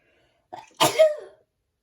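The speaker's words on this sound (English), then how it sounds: "I think I'm gonna sneeze." A single sharp sneeze with a short breathy intake just before it, close and alone in an otherwise quiet room.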